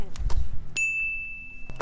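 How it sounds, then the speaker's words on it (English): A phone hooked up to a GPS unit in a vehicle chimes a bright notification ding that rings out cleanly and fades slowly, after some brief rustling and knocks, with a faint voice nearby. "So I'm getting all kinds of notifications."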